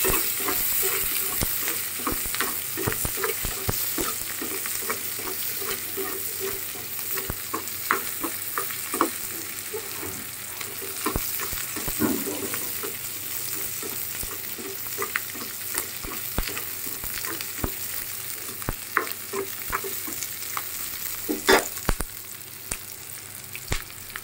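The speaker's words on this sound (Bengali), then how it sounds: "এগুলো ভেজে বের করা যায়।" Food frying in a pan and being stirred during home cooking, with a steady close sizzle broken by frequent sharp scraping clicks of the spoon against the pan throughout.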